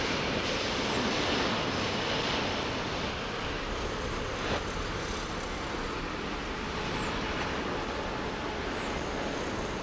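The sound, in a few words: heavy aircraft engines at Heathrow runway 09R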